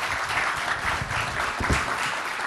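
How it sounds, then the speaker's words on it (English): An audience at a landlord panel event gives a short round of steady applause, a dense patter of many hands at moderate level with no talking over it. "Can we get a round of applause for these guys?"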